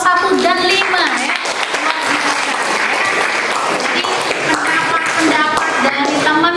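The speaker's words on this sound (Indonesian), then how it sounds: "Sekali lagi tepuk tangan untuk kelompok 1 dan 5 ya." Classroom of students applauding groups 1 and 5 during a civics lesson on Pancasila democracy, steady loud clapping filling the whole span with children's voices calling out over it.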